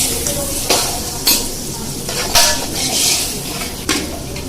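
A spoon stirs soft boiled chickpeas into fried spice masala in a pot for chana pulao, giving a few sharp scraping clicks over a steady low sizzle.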